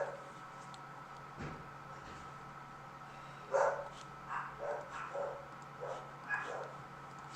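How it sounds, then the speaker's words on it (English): Several dogs bark and yip indoors in short, scattered bursts that start about halfway through, at moderate loudness over a faint room hum. "Oh, my dogs are being loud."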